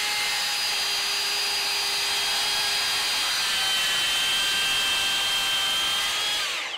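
A cordless SKILSAW 7-1/4 inch TRUEHVL worm drive circular saw cuts through MDF with a loud, steady high-pitched whine that holds for several seconds and then winds down at the end, with no talking.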